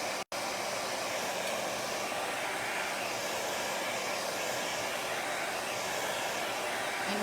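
A hair dryer blows steadily and loudly to dry chalk paint on a cookie plate, a constant broadband whoosh with one brief cutout near the start, no talking.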